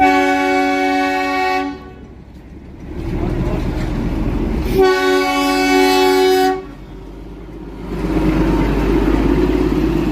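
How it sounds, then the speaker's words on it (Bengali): The Darjeeling toy train passes close by, sounding two long, loud horn blasts separated by a pause, with the rumble of the train continuing underneath. "টয় ট্রেন যাচ্ছে।"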